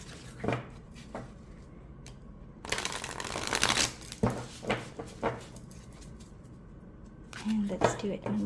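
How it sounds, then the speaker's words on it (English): A tarot deck riffles and shuffles in repeated bursts close by, with crisp flicking and tapping, alongside occasional soft handling noises between rounds. "Let's see how this deck shuffles."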